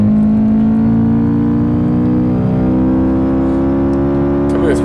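A Honda Civic race car engine on racing tires in the video game Gran Turismo 5 holds a steady, high-revving whine near its 8,500 RPM redline, loud and continuous.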